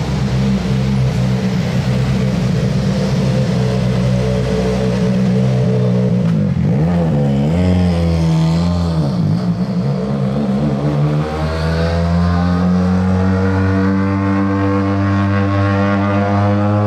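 Rally car engine on a Monte-Carlo Rally street, a loud sustained roar that swells and revs through gear changes, with pitch swooping around the middle as it approaches and passes close by.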